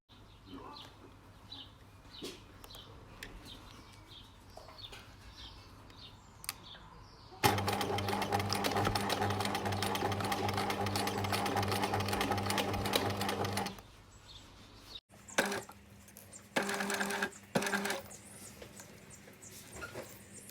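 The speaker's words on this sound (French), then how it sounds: "Donc je vais directement à la machine pour coudre ça comme ça." A sewing machine stitches through thick pleated fabric for a face mask, running in one long steady burst, then in shorter stop-start bursts, close and fairly loud with no talking.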